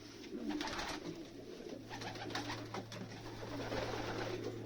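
Pigeons coo softly and repeatedly over a low background hum, with faint rustling and bird activity nearby.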